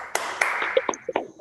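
A rhythmic PPK clap cheer, a patterned group clapping routine led at an Indonesian school or teacher session: about eight sharp, close claps in an uneven beat, with faint vocal calls mixed in.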